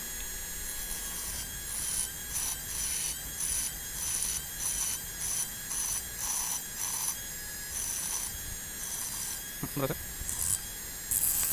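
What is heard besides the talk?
rubbing 18650 battery terminals clean before spot welding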